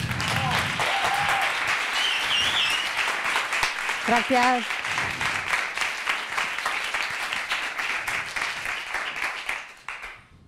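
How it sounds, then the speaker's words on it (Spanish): Audience applause for Laura at a Tuenti meetup, steady clapping filling the room for about ten seconds before fading out, with a brief spoken word and voices mixed in near the middle. "Bueno, pues un aplauso más para Laura."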